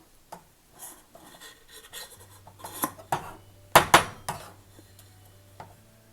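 A cooking pot used for hand-pounded brown rice is handled up close, giving scattered scrapes and rubs, then two sharp metallic knocks followed by lighter clatters.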